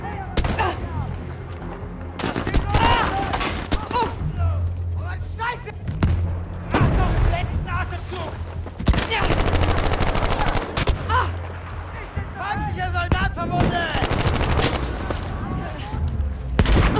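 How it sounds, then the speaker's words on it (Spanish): Rockets and gunfire in the video game Battlefield V: heavy bursts of automatic fire, explosive booms and impacts, loud and close, with a voice talking between the blasts. "Me están disparando cohetes."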